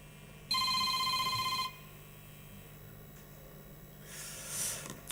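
A mobile phone gives a single electronic ring tone about a second long, loud and steady, followed by quiet room noise and a faint rustle.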